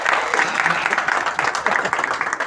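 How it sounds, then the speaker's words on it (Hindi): Hearty applause at a sanitation workers' trade union Holi celebration in Mehrauli, a dense, lively patter of many hands clapping close by, steady throughout with some voices mixed in. "तो एक बार जोरदार ताली भाई"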